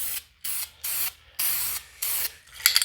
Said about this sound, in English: just like spray paint, you start it off of the model where you're starting your spray out here